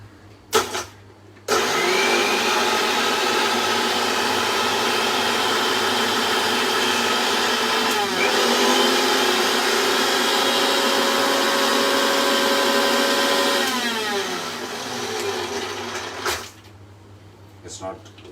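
A kitchen mixer grinder that is not grounded properly runs with a loud, steady motor whine and whirring blades for about fifteen seconds, close by, starting and stopping abruptly with brief clatter at each end.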